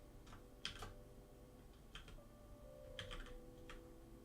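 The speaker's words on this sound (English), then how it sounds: "why am I typing like this?" Typing on a computer keyboard during a Godot VR session: a few sparse, quiet key clicks in small clusters, close but soft, with no talking.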